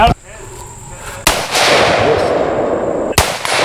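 Gunshots at an outdoor shooting exercise: two sharp, loud cracks about two seconds apart, each followed by a long decaying echo, with faint voices in the background.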